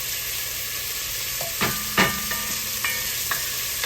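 Celery and onions frying in a pan while being stirred for doctored-up baked beans, a steady sizzle with a few sharp scrapes of a utensil against the pan, close and alone with no talk.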